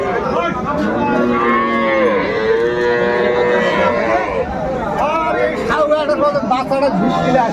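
Cattle mooing at the Aftabganj rural livestock market in Dinajpur where cows are sold with their calves, long low calls rising over a constant crowd hubbub and nearby chatter.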